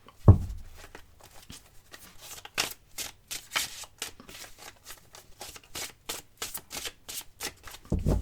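Tarot cards shuffled by hand, a long run of quick papery riffles and flicks in a steady rhythm, close and fairly soft, opening with a single knock and ending with another bump.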